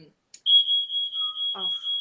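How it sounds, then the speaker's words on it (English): A smoke alarm with a dead battery gives a sustained high-pitched electronic beep that pulses steadily, with a brief voice heard over it partway through. "that's my smoke alarm that keeps going off because I think the battery is dead."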